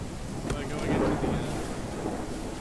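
Heavy rain and rumbling thunder in a video game's storm, a steady loud wash of downpour with a deeper swell of thunder near the middle.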